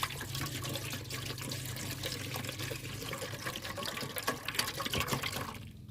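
Fish sauce pours from a bottle while pickling rice-field crabs, a continuous close trickle and splash of liquid that runs steadily throughout.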